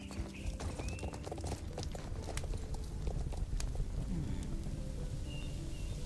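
Steady clip-clop of horse hooves from riding in Star Stable Online, a continuous even rhythm under faint background sound, with no voice heard.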